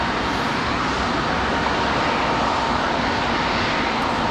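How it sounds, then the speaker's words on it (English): A Republic Airways regional jet arriving at Raleigh-Durham International Airport from Chicago O'Hare, a loud, steady broadband engine roar close by for the whole stretch. "Republic Airways 4666. Coming in from Chicago O'Hare."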